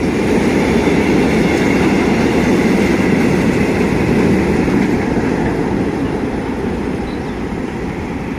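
A train led by locomotive 4218 crosses Thailand's only cable-stayed railway bridge on a morning run, a loud, close, continuous roar and rumble of wheels and engine that holds steady throughout.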